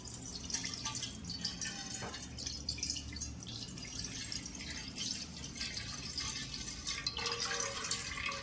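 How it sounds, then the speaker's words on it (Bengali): Milk is poured from a cut packet into a pot for Bengali payesh, a continuous soft liquid stream with light splashing heard close up and without talk. "আমি পায়েসের জন্য দুধটা কেটে দিচ্ছি, কেটে ঢেলে দিচ্ছি।"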